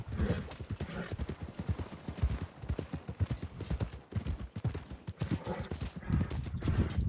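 Hooves from a big horse in Red Dead Redemption 2 clop in a quick, continuous rhythm, near and fairly loud, with a brief neigh mixed into the dense run of hoofbeats.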